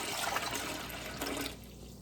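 Water pours from a tap into a pressure canner for corned beef canning, a close rushing splash that runs for about a second and a half, then drops to a quieter trickle.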